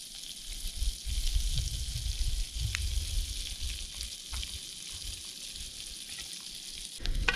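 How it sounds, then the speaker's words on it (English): Onions and cumin fry on a Trangia camp stove, a steady close sizzle running throughout with occasional light stirring scrapes and clicks, no talking. "To the onions, I'm going to add some cumin from my Nomad kitchen"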